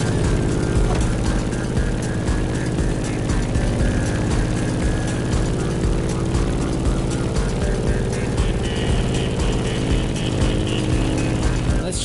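A steady, loud propeller airplane drone from The Crew racing game holds without a break, its engine tone constant through turbulent flying conditions.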